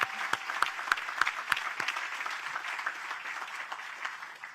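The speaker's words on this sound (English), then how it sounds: "Let's give them a round of applause." Outdoor crowd applause at a groundbreaking ceremony, steady scattered clapping with a few sharp nearby claps at the start, then a sustained even patter that continues to the end.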